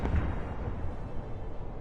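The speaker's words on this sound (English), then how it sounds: "The explosions continue." Continuous low rumbling booms roll on without pause, a heavy thud standing out near the start, like distant explosions over a battlefield.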